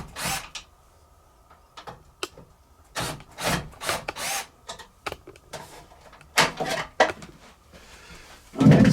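Removing the end cap screws from a Horizon treadmill brings a run of close, loud scraping and rubbing bursts, with tool handling and knocks against the frame, coming in uneven bursts with short pauses.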